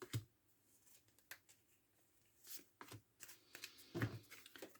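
Oracle cards being shuffled and drawn by hand: a quiet, close series of soft flicks, slides and taps, with a few louder snaps toward the end.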